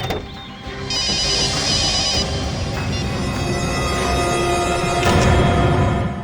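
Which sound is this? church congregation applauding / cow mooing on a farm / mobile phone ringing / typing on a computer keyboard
mobile phone ringing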